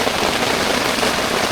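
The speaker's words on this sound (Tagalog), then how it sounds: "Sobrang lakas ng ulan na yan." Heavy rain drums steadily and densely on a tent at a lake campsite in Cavinti, Laguna, a loud, unbroken wash of close patter with no voices.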